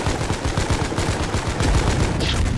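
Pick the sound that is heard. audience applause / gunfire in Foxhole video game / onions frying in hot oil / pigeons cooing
gunfire in Foxhole video game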